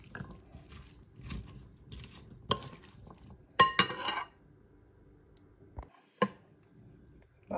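A spoon mixes aloo chana chaat of potato and chickpeas in a bowl, giving intermittent clinks and knocks against the rim. A few sharp taps stand out between quieter soft mixing sounds and short pauses.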